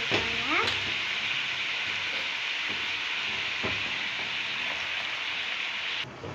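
Drumstick leaves (murungai keerai) sautéing in a hot pan give a bright, steady sizzle with a few stirring scrapes, loud and close throughout, cutting off abruptly near the end.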